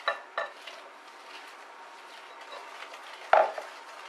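Chocolate cupcake batter being stirred in a bowl, with soft scraping and light clinks of a utensil against the bowl. A couple of sharper knocks open the clip and another comes near the end, all fairly quiet and close.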